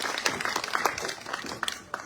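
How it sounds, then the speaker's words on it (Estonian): Audience applause at a live talk-show style event at a festival, a short burst of dense clapping from a crowd, fairly close and continuous. "Alustuseks täitsa hea aplaus."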